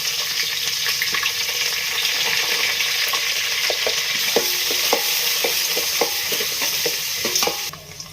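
Chillies and onions frying with chana dal in a hot pan give a steady close sizzle, with light spatula taps and scrapes against the pan throughout and no talking.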